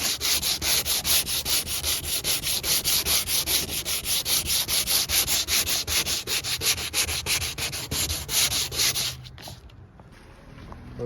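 Fiberglass is hand-sanded on a 2004 Mustang GT, the rapid back-and-forth scratching strokes loud, close and rhythmic for about nine seconds before easing off, with no talking.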